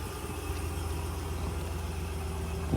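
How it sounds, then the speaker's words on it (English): A 2021 Ram 1500 with a Hemi V8 and stock exhaust idles after a cold start, a steady deep rumble close by that holds even for about three seconds with no voices. "you get a little Hemi Ram cold start"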